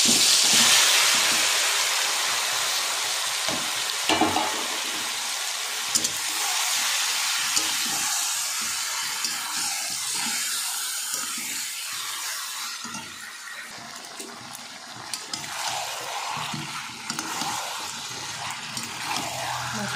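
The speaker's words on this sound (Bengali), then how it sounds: "তেলটা গরম হয়ে গেছে, এবার আমি মাংসটা দিয়ে দেব।" Chicken pieces drop into hot oil and set off a loud, broad sizzling hiss that stays dense at first, then eases gradually, with occasional pops and stirring sounds close by.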